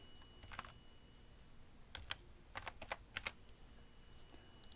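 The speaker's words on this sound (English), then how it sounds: "So first I'm going to type in the join code." A join code is typed on a computer keyboard for a Zoom online class: short, quiet bursts of key clicks separated by pauses, close to the microphone, with no talking.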